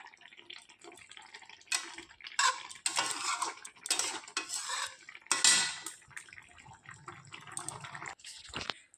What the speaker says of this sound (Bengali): এটা এবার মাছটাকে উল্টে পাল্টে একটুখানি মশলাটা মিশিয়ে নেব সব কিছুর সঙ্গে